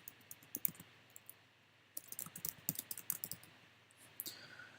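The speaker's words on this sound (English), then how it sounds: "hit return on the keyboard and go ahead and type in the name of my business" Quiet, scattered clicks of someone typing on a computer keyboard, light keystrokes in short bursts with a pause in between, close and faint with no talking.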